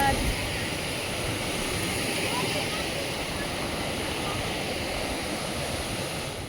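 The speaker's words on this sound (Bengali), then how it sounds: "বাপরে বাপ জলের কি ঢেউ দেখো" Sea waves crash on a beach shore in a loud, continuous roar of surf that fills the scene with little variation from start to finish.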